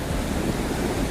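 Kosi river floodwater rushes past riverside village houses during monsoon flooding, a loud, continuous broadband roar of churning water that holds steady for the whole moment, with no voices.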